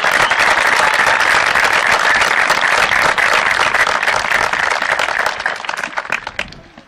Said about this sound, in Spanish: quiero que todos brindemos un gran aplauso al Fútbol Club Villa Huidobro por su pase en cuarto de final